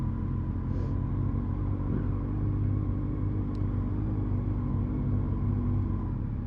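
A motorcycle ridden along a road gives a steady low engine rumble that holds at an even level throughout, with no talk over it.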